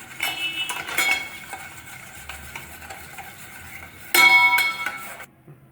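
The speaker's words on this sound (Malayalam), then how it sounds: "മുട്ടയും പഞ്ചസാരയും നന്നായി അടുക്കുന്ന പോലെ മിക്സ് ചെയ്യുക" A spoon whisks eggs and sugar in a bowl for a rava egg snack batter, making a soft, steady scraping swirl with a few sharper clinks of metal against the bowl near the end.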